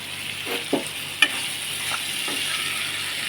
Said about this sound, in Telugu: చక్కగా ఫ్రై చేసుకున్నామండి ఇలా కలుపుతూ ఫ్రై చేసుకున్నాము